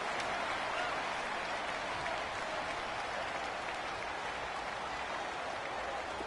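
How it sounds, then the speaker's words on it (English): Crowd cheering and applauding in a Madden 19 football game, a steady dense roar of a large stadium crowd throughout, with no talk. "The crowd getting into it as we come up on a big 3rd down."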